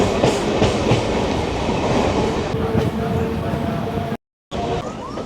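Kolkata circular rail local train running, a loud steady rumble with rhythmic wheel clatter on the tracks, heard close from on board; voices murmur underneath, and the sound drops out briefly near the end.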